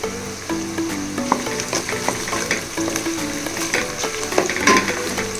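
Onions sautéing in a pan with dried red chillies and biryani spices for potato biryani. A loud, steady sizzle runs throughout, with stirring scrapes and a faint tonal hum underneath.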